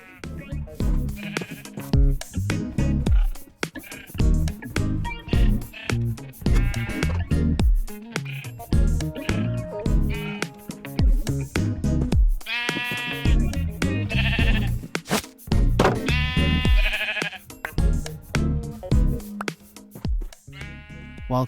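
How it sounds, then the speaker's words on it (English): Sheep in Minecraft bleat repeatedly, several animals calling one after another in wavering, nasal cries, close and loud, with brief pauses between calls. "Use the leads to drag the sheep in the enclosure."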